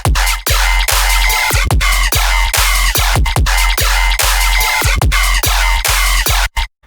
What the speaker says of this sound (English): And then when I add these little FX filler things,